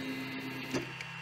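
An Ender 3 3D printer runs with a steady mechanical hum, and a single dull clunk sounds about midway, close to the listener.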